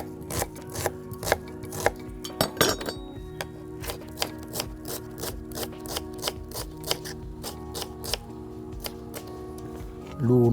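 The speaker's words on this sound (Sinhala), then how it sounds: "අපි මේකට දැන් කපා ගමු ලූණු" A knife chops onions on a cutting board in a home kitchen with quick, regular taps, a steady run of crisp strikes that ends in a brief louder clatter.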